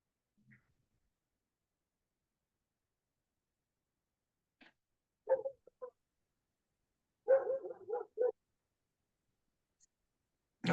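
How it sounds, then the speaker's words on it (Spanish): A small dog barks a few times in the background of an online meeting, short faint yaps in scattered bursts separated by silence. "Apaguen sus micrófonos porque estoy escuchando por ahí un perrito"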